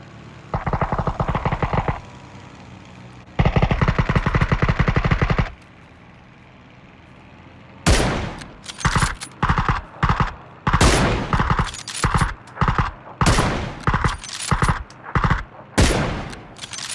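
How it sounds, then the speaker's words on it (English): Bursts of rapid machine-gun fire from a flying vehicle in PUBG, loud and close, coming in repeated short volleys over a steady rotor-like hum, with no talking. "I'm getting shot at. It's a flying thing."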